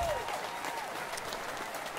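A studio audience applauds a guest on a talk show, steady dense clapping filling the room, with a faint voice briefly audible early on.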